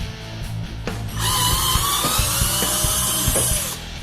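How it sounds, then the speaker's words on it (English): A power drill whirs steadily for a few seconds after a brief start while fixing a wobbly chair, high-pitched and close, with small clicks and thumps underneath. "Let's use the drill on that one."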